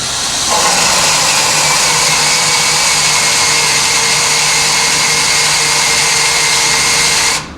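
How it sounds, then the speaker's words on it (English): A power drill boring straight down into a wooden stick at slow speed whirs loudly and steadily for several seconds, a strained high whine with a low grinding undertone, close by, then cuts off. "I'm going to drill straight down"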